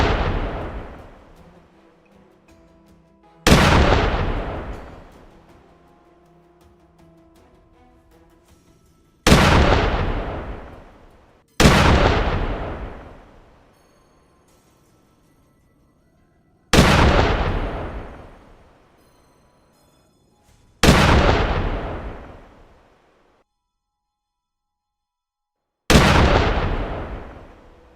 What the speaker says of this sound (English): Every echo of a gunshot isn't just noise